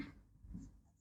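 Writing on a board during a chemistry lecture, a brief, faint scratch of one or two strokes close by, with no talking.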